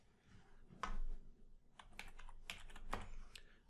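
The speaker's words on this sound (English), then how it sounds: "I type in rhubarb." Keys clatter on a computer keyboard in a few short bursts of typing, close and fairly quiet, with brief pauses between clusters of presses.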